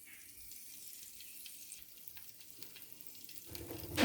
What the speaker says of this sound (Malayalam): നമുക്കിങ്ങനെ അതിൽ കുറച്ച് വെളിച്ചെണ്ണ ഒഴിച്ച് കൊടുക്കാം.